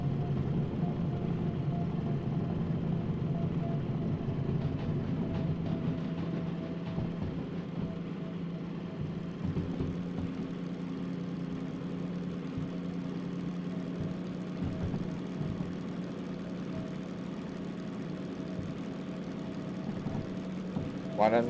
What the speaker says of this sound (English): My engine doesn't sound good anymore